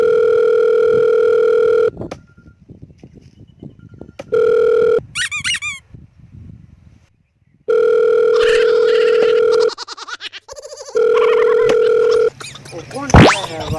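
A mobile phone placing a call in a comedy skit sounds loud, repeated ringback tones in long, even bursts, separated by gaps of rustling, squeaky chirps and other short noises.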